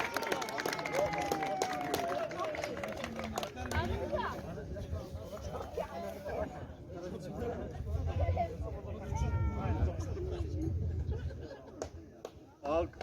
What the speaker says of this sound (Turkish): Alkışlar için arkadaşlar.